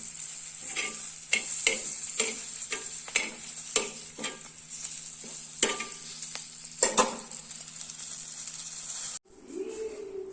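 Large chillies tempering in a hot pan: steady close sizzle and hiss with repeated scraping stirs and clinks, ending abruptly into a quieter room tone.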